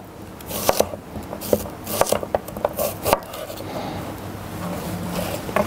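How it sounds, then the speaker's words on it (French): A knife slicing shallot and onion into rings about 5 mm thick on a board: a run of crisp, irregular cutting taps and scrapes close by, with no talk. "tailler l'échalote en rondelles environ de 5 mm"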